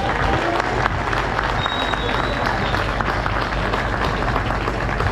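A crowd at an indoor tribute ceremony in Paris's 19th arrondissement for Lounès Matoub claps in sustained, dense applause that stays steady and loud throughout.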